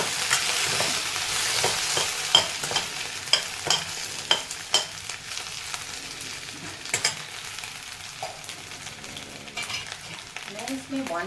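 Potatoes cooking in oil for Punjabi kadhi are stirred with a spoon, with a soft steady sizzle under repeated sharp scrapes and clinks against the pan, close and moderately loud.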